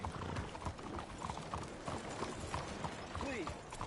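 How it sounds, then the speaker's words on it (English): Horse hooves clip-clop steadily in a PS4 video game, a continuous rhythmic trot mixed with a man's speech and game background sounds. "That's a hell of a horse you got there."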